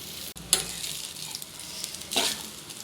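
Cooked rice tipped into a hot pan for egg fried rice, giving a sudden sizzling burst followed by steady frying crackle and a second flare of sizzle as it is stirred.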